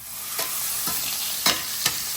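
Rajma tempering of whole spices, asafoetida and chilli sizzles in hot oil, a close, steady crackle punctuated by a few sharp stirring bursts.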